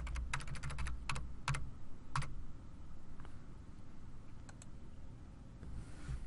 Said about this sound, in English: you can hit the arrow keys and you can move it